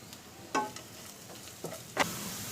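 Whole cardamom pods, cloves and a piece of cinnamon hit hot oil in a pan for egg bhurji gravy, giving a soft sizzle with a few sharp clinks and stirring scrapes.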